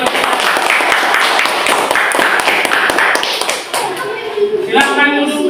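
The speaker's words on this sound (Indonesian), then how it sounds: "Kasih tepuk tangan buat kelompok" Students in a classroom clap for the first discussion group, a close, sharp burst of many hands that fades toward the end as a teacher speaks.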